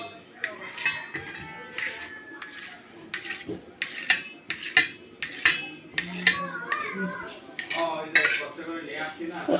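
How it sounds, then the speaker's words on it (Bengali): A knife chops set red jelly into pieces, producing a steady series of about a dozen crisp taps and clicks against a plate or board, evenly spaced and close by. "এবার আমি লাল জেলিটাও কেটে নেব আমার পছন্দ মতো করে আমি পিস পিস করছি"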